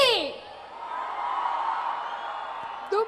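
Audience at a college fest cheering and whooping, a sustained crowd roar that swells and holds for a few seconds before a brief shout near the end, with a voice over it at the start.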